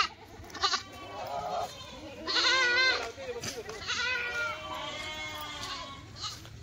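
Kathiawadi goats bleating at a farm, several wavering calls rising and falling in turn, fairly close, with someone talking among them throughout.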